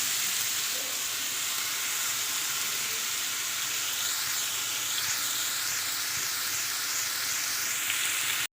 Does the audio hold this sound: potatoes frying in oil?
yes